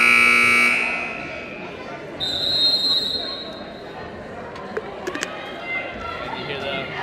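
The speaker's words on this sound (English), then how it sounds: "And you hear the whistle and the buzzer." A loud electronic buzzer sounds at a school basketball game, then a referee's whistle blows shrilly. Crowd chatter and court noises from the gym continue beneath both.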